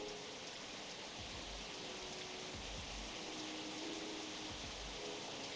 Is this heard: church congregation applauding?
no